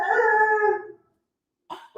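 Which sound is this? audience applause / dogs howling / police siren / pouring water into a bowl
dogs howling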